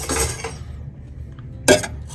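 A spoon scrapes and clinks against a cooking pot while laing is stirred in hot oil from liempo, with a few metallic knocks, a quiet gap, then one sharp clatter.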